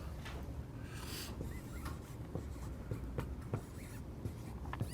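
Chalk or marker strokes on a classroom board during a math lesson on sequences, a series of short scratchy taps and squeaks spread across a steady room hum, fairly close and moderate in level.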